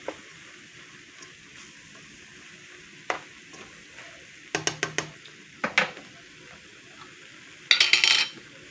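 Ground beef mixture is stirred into cooked spaghetti noodles in a pot, with a soft steady background hiss broken by clusters of scraping, clacking utensil strokes against the pan, loudest in a final burst.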